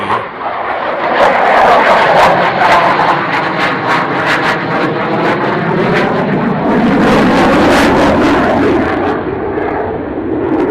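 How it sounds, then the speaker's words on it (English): F-16 jet aircraft flying a Solo Türk display, a loud sustained engine roar that swells and shifts as the jet passes, with faint crowd or wind noise beneath. "F-16 Solo Turk display."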